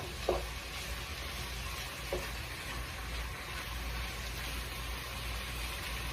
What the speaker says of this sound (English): So we're chopping it up again because what happens as the beef cooks, it clumps together.